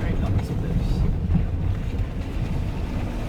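A heavy, continuous low rumble and wash of water as a vehicle ploughs steadily through deep water on a green lane, with wind buffeting the microphone.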